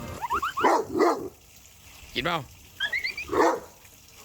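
A dog in the RPG Never After gives a handful of short yappy barks in quick bursts, close and clear, with a person talking alongside them.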